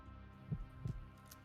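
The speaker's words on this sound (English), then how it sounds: "As he does the snap, you hear a heartbeat" Heartbeat sound effect: two deep, muffled thumps about a third of a second apart, throbbing low over a soft background hum.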